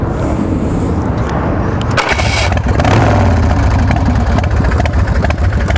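A Swift Bar Chopper motorcycle cranks and fires right up, settling into a loud, steady close-up idle with a throaty rumble and occasional light revs.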